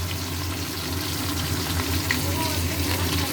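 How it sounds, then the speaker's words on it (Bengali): Fish pieces (khoira) frying in a pan for a mustard-poppy-seed dish, giving a steady close sizzle and hiss throughout with a low constant hum beneath. "এটা হচ্ছে ঢেলা খয়রা, সর্ষের পোস্ত দিয়ে করব, ভাজছি এখন।"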